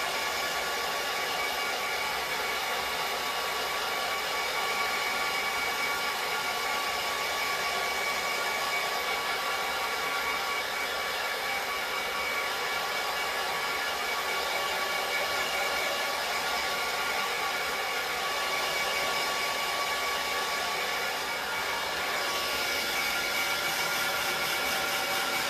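A hair dryer runs continuously while hair is rough dried, a steady whirring blow with a faint tonal hum that stays even throughout.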